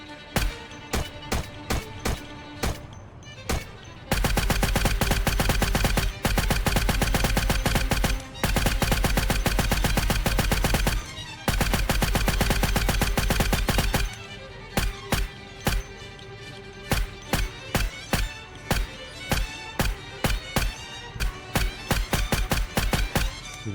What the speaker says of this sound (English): There's something incredibly satisfying about blasting these zombies with guns.